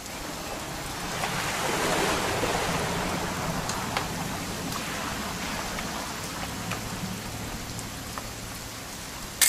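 Steady rainfall in the game What Remains of Edith Finch pattering on surfaces, a continuous broadband hiss with scattered droplet ticks, fairly close and even throughout.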